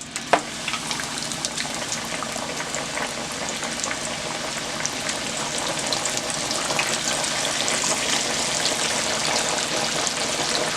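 Pork chops deep frying in hot oil for garlic pork chops give a dense, steady sizzle and crackle, close and fairly loud, with no talking throughout.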